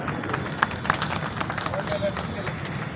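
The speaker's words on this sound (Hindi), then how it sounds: "जोरदार तालियों से स्वागत।" A crowd at a Dr. Ambedkar birth anniversary celebration breaks into applause to welcome a speaker: dense, steady clapping from many hands, fairly close, with murmuring voices and babble underneath throughout.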